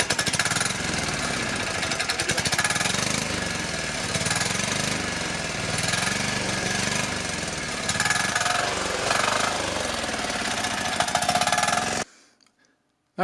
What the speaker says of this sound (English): as soon as I turned it on and tried to rev it, I realized at first this thing has got to go.